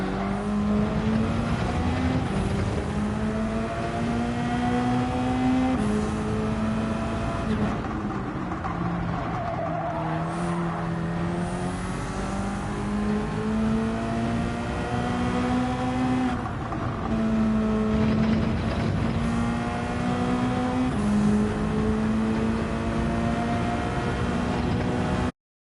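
A car in Gran Turismo 7 drives steadily with a loud, continuous engine drone whose pitch rises and falls through gear changes, with tyre noise underneath for the whole stretch.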